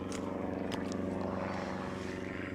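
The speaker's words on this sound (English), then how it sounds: "Another plane," A propeller airplane flying overhead above chaparral and sage scrub near San Diego: a steady, loud engine drone that fills the whole stretch, with no speech.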